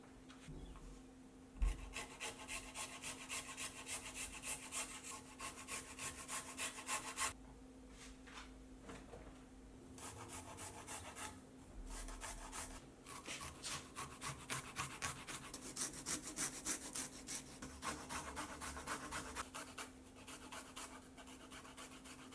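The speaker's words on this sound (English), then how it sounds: "I then grate it." Fresh ginger and turmeric root grated by hand make a steady, rapid rasping rhythm of quiet back-and-forth scrapes. A short pause breaks it partway through, then the grating resumes.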